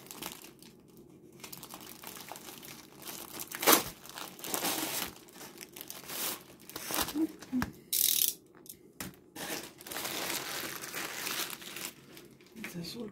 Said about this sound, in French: Je m'éloigne juste un petit peu pour les bruits de plastique.